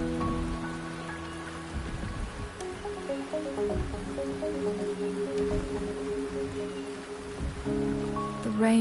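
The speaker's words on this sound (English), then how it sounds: "The rain is subsiding, and the sky will soon clear." Steady rain pours down in the video game Wuthering Waves, a dense, continuous hiss of drops over a soft sustained musical tone, with no voices.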